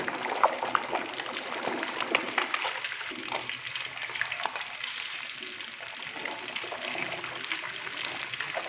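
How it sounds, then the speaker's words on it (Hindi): A large 20 kg batch of fish pieces fries in hot oil, giving a steady, dense sizzle and crackle that runs continuously at moderate level with no talk over it. "मछली का ये वाला जो पीस है इसको फ्राई होने के लिए छोड़ देंगे"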